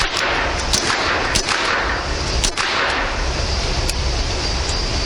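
Unsuppressed pistol shots ring out outdoors, a series of several sharp, loud cracks spaced unevenly over a few seconds, each with a brief echoing tail.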